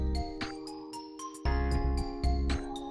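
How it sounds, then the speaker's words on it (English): A C Phrygian scale melody played over a looping chord progression, with bright struck notes in a quick rhythm over sustained chords, fairly soft and alone. "That's the sound of Phrygian."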